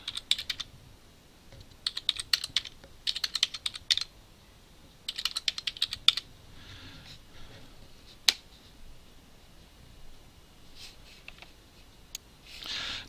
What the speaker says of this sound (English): My keyboard is making noise